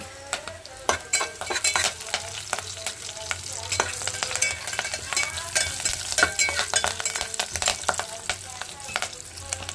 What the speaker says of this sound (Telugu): కరివేపాకు వేసేస్తున్నా ఇప్పుడు